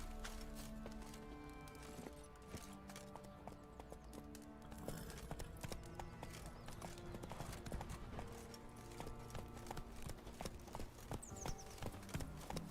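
Roach, a horse in The Witcher 3, gallops in a steady, continuous clip-clop of hooves under a busy game soundscape with music, with no break in the rhythm.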